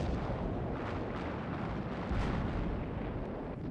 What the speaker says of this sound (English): now he gave the order for the Olympia's guns to open fire